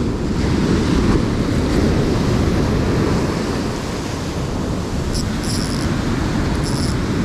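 Ocean surf washing onto a beach where tailor are fished with lures, a loud continuous rumbling wash of swell with wind buffeting the microphone, close by and without speech.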